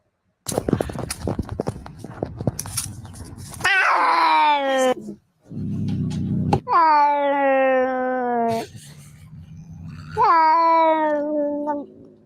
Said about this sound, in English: this cat that's backing away looks like a very rough alley cat